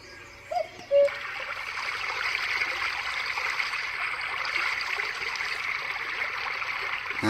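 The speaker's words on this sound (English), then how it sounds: "That's just like a stream." Steady rushing stream water played on a white noise sound machine, a continuous broadband trickle and gurgle that follows two brief tonal blips at the start and then holds an even level throughout.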